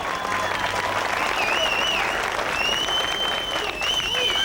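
Crowd at a fronton in Nouméa, 1990, applauds a strongman performer with steady, dense clapping, overlaid by whistles and cheering voices throughout.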